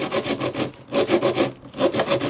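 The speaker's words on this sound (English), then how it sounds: "just grab a file and then just roughen up" Metal file roughening the bottom end of a golf wedge shaft in short, quick back-and-forth rasping strokes, close up and alone, with a brief pause mid-way before the strokes resume.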